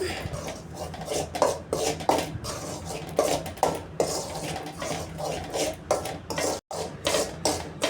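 Ragi flour dry-roasted in a pan over medium heat, stirred with a utensil that scrapes and taps the metal in a quick, steady, repetitive rhythm, close and loud with no talk.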